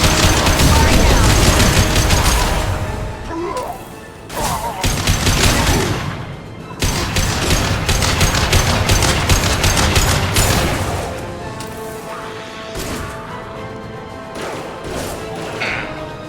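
A Mass Effect 2 battle rages with loud, continuous gunfire and smashing impacts, bursts of rapid shots broken by short pauses, with combat voices calling out in between.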